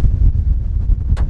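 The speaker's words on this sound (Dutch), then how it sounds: "het waait ondertussen echt heel erg hard" Strong wind buffets an outdoor camera microphone beside a BMW M2, a loud, continuous low rumble that gusts unevenly for over a second with a brief hissy burst near the end, no voices heard.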